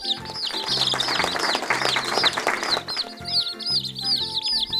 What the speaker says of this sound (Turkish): civciv.